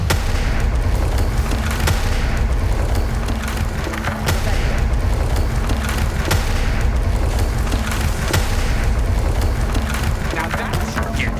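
Confringo explosive spell in Hogwarts Legacy: a rapid string of sharp cracking blasts with splintering impacts, loud and dense over a constant battle rumble, no voices.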